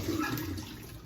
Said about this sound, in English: So I pretty much run it underwater and get it wet